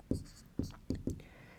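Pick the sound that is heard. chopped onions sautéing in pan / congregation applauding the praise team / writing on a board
writing on a board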